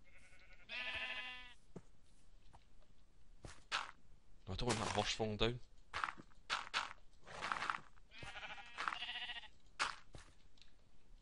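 Sheep in the video game Minecraft give several clear, loud bleats between bursts of someone talking, mixed with scattered soft footstep clicks.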